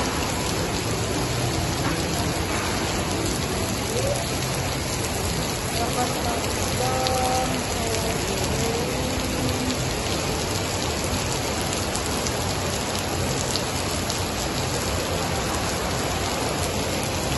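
Steady rain falling in Manila, Philippines, an unbroken wash of patter and hiss, with faint voices occasionally in the background.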